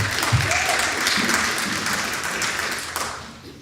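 A church congregation applauds warmly for newly welcomed members, a dense steady clapping from many hands that swells early and then gradually tapers off.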